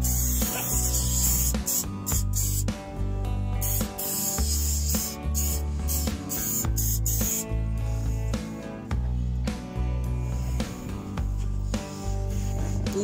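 Plastic polish is sprayed onto a car's steering wheel in a steady hissing stream, broken into several bursts with short pauses, close and fairly quiet over a low interior hum.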